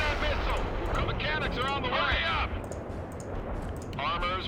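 Tanks firing in the video game World in Conflict: Soviet Assault, booming cannon blasts and rumbling explosions in a dense battle soundscape, loud and continuous.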